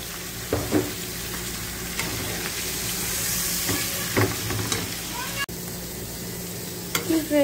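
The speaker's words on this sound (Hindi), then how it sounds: "ये मेरे प्याज ब्राउन हो चुके हैं, अब मैंने इसमें छोले ऐड कर दिए हैं।" Boiled chickpeas and spices hit browned onions in a hot pan, raising a loud continuous frying sizzle with scraping stirs and a few clinks, close and uninterrupted.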